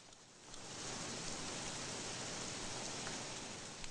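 Contaminated rain falls outside in an end-of-the-world film scene, a steady, dense hiss of downpour that swells in after a moment and holds evenly, with no voices.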